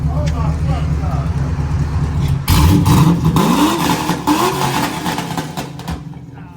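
Pontiac G8 GT V8 engine idling roughly, then revved hard in a couple of rising blips before settling, close and loud, with excited voices talking over it.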